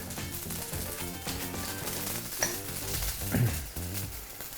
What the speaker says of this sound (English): we're shallow frying it and going to keep it moving